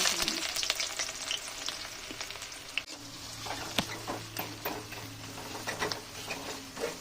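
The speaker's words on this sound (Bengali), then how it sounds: "এবারে কিন্তু পেঁয়াজটা দিচ্ছি বেরেস্তার জন্য" Sliced onions fry for beresta in oil spiced with cardamom, cinnamon and cloves for potato biryani. The sizzle is a steady crackle, with tapping and ticking from stirring and no voices.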